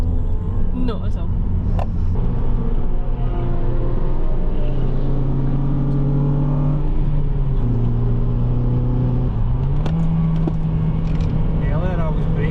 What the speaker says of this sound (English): Earlier I was braking into these corners, now I'm accelerating through them.